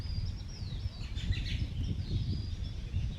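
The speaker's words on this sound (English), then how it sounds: "There's doves nearby, there's pigeons, there are, I can't even identify all of the different little flying birds around." Small birds chirp and twitter outdoors with doves and pigeons nearby, a faint, continuous scatter of high calls over low background noise with no voices.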